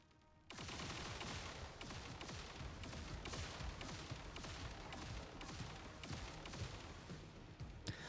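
Chained explosions spreading between targets in the video game The First Descendant: after a brief quiet start, a dense, continuous crackle of rapid blasts and pops erupts and keeps rolling at steady loudness.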